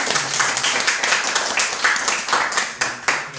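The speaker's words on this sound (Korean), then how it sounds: "다 같이 박수로 환영하고 감사할까요?" A church congregation claps together in a fairly loud, rhythmic wave of hand claps that pulses steadily throughout, with no speaking over it.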